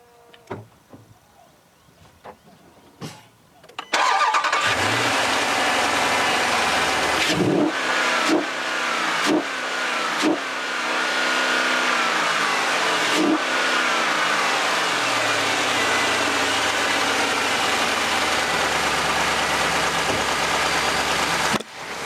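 The 6.4-litre V8 of a 2014 Jeep Grand Cherokee SRT8 starts and settles into a deep idle, then revs hard several times in sharp bursts before holding a loud, steady roar close by.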